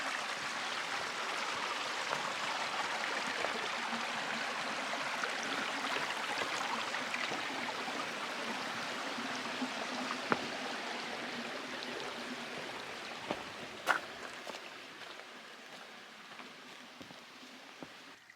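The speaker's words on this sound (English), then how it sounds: "Here's Nason Creek." Nason Creek, a mountain stream along the Pacific Crest Trail, rushes steadily as a broad, continuous wash of flowing water, close and fairly loud throughout, with occasional faint clicks and no talking.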